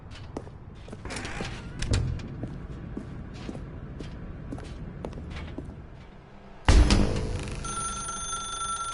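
A telephone bell bursts into loud, close ringing after several seconds of quiet footsteps and thumps in a dark room, the ring sustained and bright to the end.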